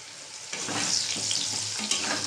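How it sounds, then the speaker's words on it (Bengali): Mustard seeds and dry red chilies sizzle in hot oil in a pan, a close, even crackling hiss with light popping and stirring. "আমি সর্ষের শুকনো লঙ্কাটা আমি ভালো করে ভেজে নেব।"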